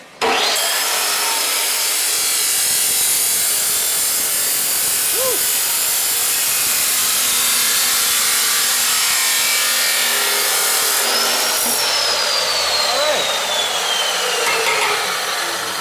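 Loud, continuous high-pitched grinding as a power tool cuts through a metal exhaust flange on a car, sustained for a long stretch with a brief change in pitch partway.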